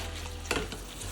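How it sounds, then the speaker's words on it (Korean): Chopsticks briskly tossing aglio e olio pasta in a pan with olive oil, garlic, chili and oyster sauce, giving a close, brief scraping stir over a soft sizzle. "이 팬과 젓가락을 바쁘게 움직여주세요."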